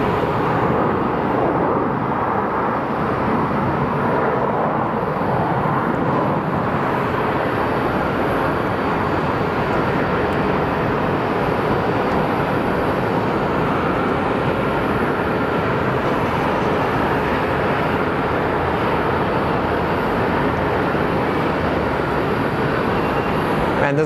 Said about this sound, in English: And we have our pushback of this plane.